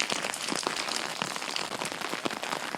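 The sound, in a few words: rain falling in Southern California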